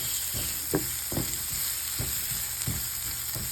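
Purple onions sizzle and fry in coconut oil, a steady close hiss with occasional stirring knocks spread across the span, no voices.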